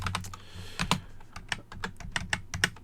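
Typing on a computer keyboard, a quick irregular run of crisp, close key clicks and taps with a few heavier strokes, alone with no voices.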